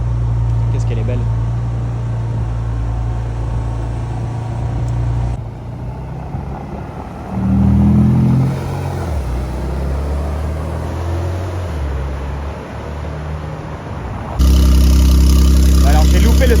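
A car engine at a Paris car meet idles with a deep, loud rumble, drops off, swells with a brief rev and returns to a heavy idle near the end, with people talking in the background.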